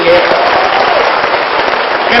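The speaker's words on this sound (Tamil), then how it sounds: "அவருக்கும் ஒரு மிகப்பெரிய கைத்தட்டல் கொடுக்கணும் நீங்க" Dense audience applause fills the whole stretch, steady broadband clapping from a large crowd, loud and continuous without pause.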